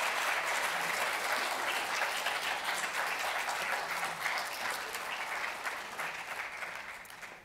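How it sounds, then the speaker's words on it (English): Audience applause fills a gala evening honoring community health, steady dense clapping from a large crowd that holds strong and then slowly tapers toward the end. "Please join me in a round of applause for Greg Devins."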